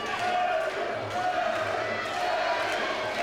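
A large crowd of around 1,500 spectators roars and screams steadily at a Thai boxing fight in an indoor auditorium, a dense continuous wall of cheering with no clear breaks.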